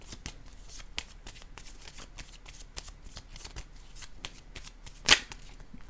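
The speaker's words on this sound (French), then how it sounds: "Je vais déposer une carte pour cette série-là" Tarot cards are shuffled and handled in a steady run of soft riffling flicks and slides, with one sharper slap near the end as a card is set down; close and fairly quiet, with no talking.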